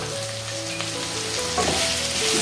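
Masala with biryani masala and red chilli powder frying in oil sizzles steadily and close while being stirred, with a faint tonal hum running underneath and no voices.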